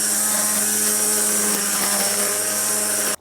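A Wild Badger 40V cordless weed whacker runs at full speed cutting grass, a loud steady high-pitched whine with a buzzy hum that cuts off abruptly at the end; no talking.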